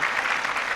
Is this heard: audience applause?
yes